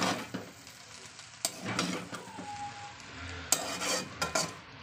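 A spatula stirs chow mein in a pan, making scraping and clanking strokes at an irregular rhythm over a soft sizzle, close and fairly loud with no talking.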